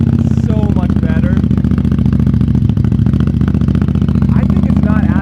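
A Ducati Diavel 1260 fitted with a Termignoni exhaust idles close up, a loud, deep, steady rumble throughout, with faint mechanical clatter on top.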